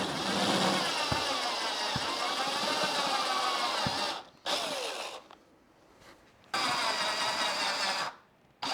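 A power drill with a step drill bit whirs loudly in several long bursts while enlarging a hole, stopping and restarting with short quiet gaps between runs.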